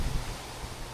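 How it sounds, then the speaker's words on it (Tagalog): Steady, blustery wind roars and buffets the microphone with low rumbling gusts, with no voices. "malakas naman ang hangin"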